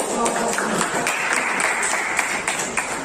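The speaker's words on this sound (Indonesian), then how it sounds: "Tepuk tangan dong." A class of students applauds during an economics lesson, dense continuous clapping with sharp individual claps standing out, fairly close and sustained for the whole stretch.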